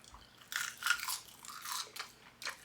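Crisp crunches of a Korean seaweed snack being bitten and chewed, several close, bright bursts in an irregular rhythm within a quiet room, no talking.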